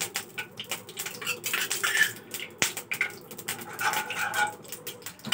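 Ghee going into a pan while masala upma is cooked, with faint sizzling and scattered clinks of a spoon against metal cookware in a quiet kitchen, close and soft.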